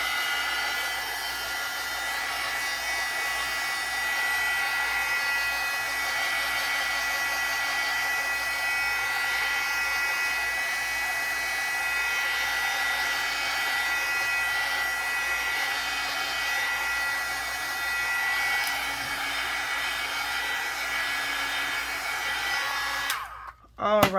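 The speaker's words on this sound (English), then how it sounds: "now I want to come in and dry this a little bit. That's my heat tool" A heat tool blows with a steady, loud whirring hiss as it dries paint on a journal page, running unbroken for over twenty seconds up close before cutting off abruptly with a brief clatter at the end.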